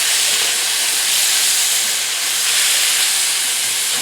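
Steady, loud hiss of steam rising from a hot cast iron pan while cooking mushrooms and Brussels sprouts, continuous and close with no break.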